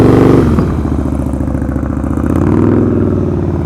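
A motorcycle engine rumbles loud and close during slow-speed riding practice, its throttle rising and falling steadily through a continuous throaty drone.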